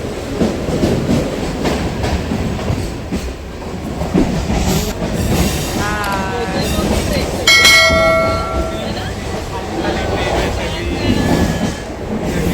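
A train rumbles along steadily with a continuous roar and rattling, a horn-like tonal blare rising briefly midway, voices faintly underneath.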